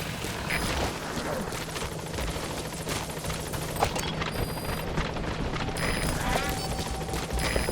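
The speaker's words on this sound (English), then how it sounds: "Support helicopter has arrived." Support helicopter arriving in the video game Metal Gear Solid V: The Phantom Pain: a dense, continuous rotor roar fills the scene, mixed with bursts of gunfire-like crackle and game sounds, loud and sustained throughout.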